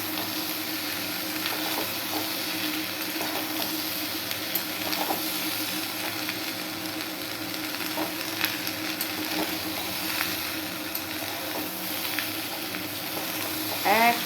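Tomatoes and green peas fry in a pan with a steady, even sizzle and occasional faint stirring scrapes, continuing evenly from start to finish with no voices.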